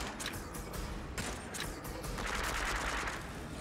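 Rapid bursts of weapon fire in the horde mode of the video game Switchback, a dense, fairly quiet fusillade of sharp cracks repeating in clusters with a mechanical rattle underneath.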